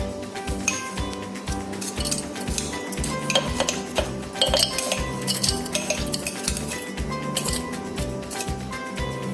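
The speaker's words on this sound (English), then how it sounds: "Add some crushed ice into the glass or jar in which you're serving." Crushed ice tumbles into a serving glass for a watermelon mojito, giving a dense, continuous run of close clinking and rattling against glass with no talking.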